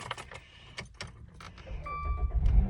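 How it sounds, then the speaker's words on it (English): Keys jingle and rattle close by, followed by a car engine being started and cranked up. A low rumble swells louder over the last second. "Crank this car up."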